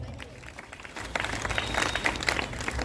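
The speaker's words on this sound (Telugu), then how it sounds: "వారిని కూడా మీ అందరి తరఫున మరి ప్రేమతో ఆహ్వానిస్తూ గట్టిగా చప్పట్లు కొడతాం." Applause breaks out from a crowd at a church feast Mass in Proddatur, starting softly and quickly building into brisk, dense clapping.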